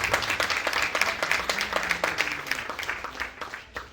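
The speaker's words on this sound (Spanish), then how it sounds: "Dale la ofrenda de aplauso a Cristo" Church congregation at an evangelistic service giving a round of applause, steady rhythmic clapping from a moderately distant crowd, fairly soft and fading slightly toward the close.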